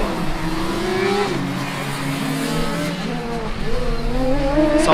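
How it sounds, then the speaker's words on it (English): A Formula Student race car at the Hockenheim circuit, its high-revving engine rising and falling in pitch as it accelerates and shifts, loud and continuous with faint tire noise. "Finally, some proper racing sounds on the circuit of Hockenheim."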